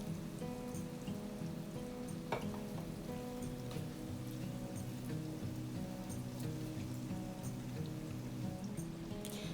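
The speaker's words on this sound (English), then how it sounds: "Then deep fry the eggplant for 2 minutes." Eggplant deep frying in oil heated to about 360 Fahrenheit in a wok, a dense, steady sizzle and crackle like rain, with scattered pops, fairly quiet and continuous throughout.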